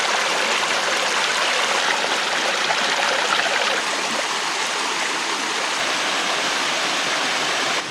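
A small waterfall in the woods rushes steadily, with a continuous, even hiss of flowing water close by and no breaks or voices.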